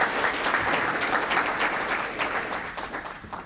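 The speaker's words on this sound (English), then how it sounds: "So let's give our panelists a big round of applause." An audience at an international development and infrastructure summit gives the panelists a big round of applause, a dense wash of many hands clapping that starts full and gradually tapers off.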